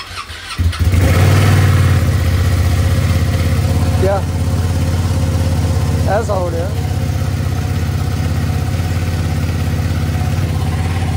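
Ducati superbike engine firing up and settling into a loud, steady idle nearby, with brief blips of revving in the middle; someone speaks briefly over it.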